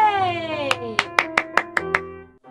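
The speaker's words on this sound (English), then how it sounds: "clap your hands" A small group claps for a children's sing-along, about seven sharp claps in a fairly even rhythm over held singing and music.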